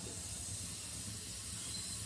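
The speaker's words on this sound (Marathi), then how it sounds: "तर आधी टाकून दिले आपण तव्यावर मिरच्या। त्याला छान भुजून घेऊ आपण।" Green chillies roasting on a hot iron griddle give off a soft, continuous sizzling hiss, faint and even throughout with no voices.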